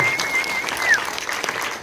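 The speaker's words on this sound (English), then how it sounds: "Can we have a round of applause for the volunteers for organising tonight and bringing this all together?" An audience at a film panel discussion applauds the event's volunteers, producing a brief, dense burst of many hands clapping nearby.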